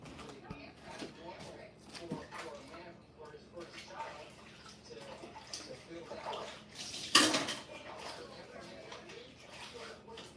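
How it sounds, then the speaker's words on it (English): Faint running water from a kitchen sink as a couple of items are washed by hand, a quiet steady splash with a brief louder gush near the end, under low indistinct talk. "let me go over here and wash these."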